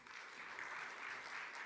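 Audience applause at a university diversity showcase, a short steady patter of many hands clapping at moderate distance, faint and without talk.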